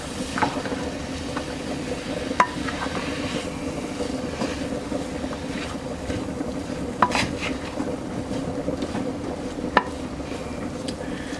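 Crushed fresh garlic cloves dropped into a hot skillet with ground beef for hamburger pie, giving a steady background sizzle with a few sharp clinks of utensil against pan.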